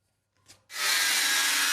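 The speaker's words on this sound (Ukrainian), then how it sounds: "Гуркіт молотків, шум перфоратора, тупотіння численних ніг." A hand-held power tool bites into a wall during renovation work at a school in Kyiv, a sudden harsh grinding roar that starts after a short quiet thump and holds loud and steady.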